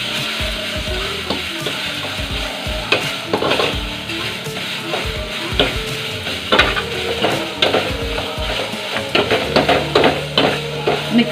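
Tomato chutney sizzles and fries in a pan while a utensil stirs steadily, scraping and clinking against the pan in an irregular rhythm, close and fairly loud with no talking.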